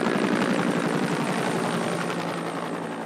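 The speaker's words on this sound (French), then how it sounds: "un hélicoptère de la sécurité civile italienne les survole" An Italian civil protection helicopter passes overhead at sea, its rotor thumping steadily and loudly throughout, then easing slightly toward the end, with no voices.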